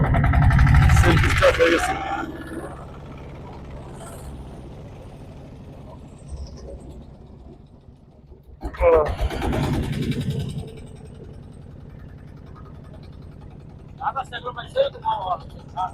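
Boat engine self-started on a river char during a boat race: a loud burst of starter and engine noise at the start, then a second surge, with people talking throughout.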